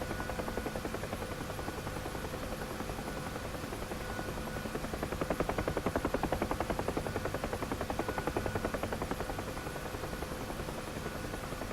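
A Huey helicopter flying in the DCS flight simulator game, its rotor giving a steady, even thumping buzz that stays constant throughout with no voices.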